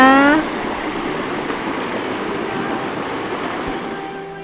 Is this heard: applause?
no